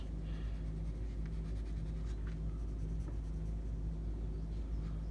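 A marker or pencil drawing socks and shoelaces on paper, soft scratchy strokes repeating in short even bursts over a steady low hum.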